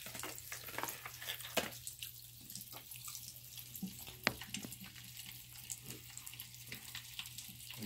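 Soft, continuous fizzing and crackling of Coke bubbling with Pop Rocks in a sink, with scattered tiny pops, close and fairly quiet.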